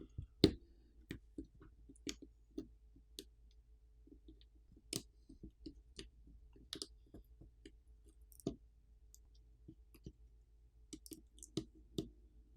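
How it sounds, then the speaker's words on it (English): Small clicks and snaps from detaching the flex cable and millimeter wave 5G antenna inside a Google Pixel 6 Pro during a teardown, a sparse, irregular series of close, quiet ticks over near silence. "Now we can peel off the flex cable and remove the millimeter wave antenna."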